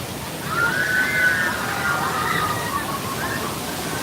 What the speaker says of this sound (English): in the tunnel when a big wave of water falls over you